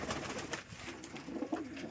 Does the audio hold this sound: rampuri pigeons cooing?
yes